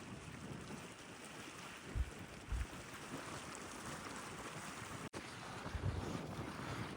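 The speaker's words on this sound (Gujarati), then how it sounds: "બહુ પવન આવે છે અહીંયા વધુ" Cold wind blows steadily at the seaside near Sudarshan Setu by Bet Dwarka, a soft, low, continuous rush with a few heavier gusts thumping on the microphone.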